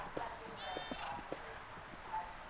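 Sheep in the Minecraft video game, a faint short bleat over quiet soft footstep-like taps and low background noise.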